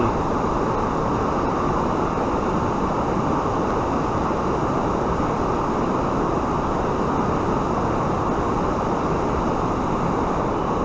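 Waterfall pouring over a river spot where striped bass gather in Connecticut, a dense, steady, loud roar of rushing water that fills the whole clip without a break.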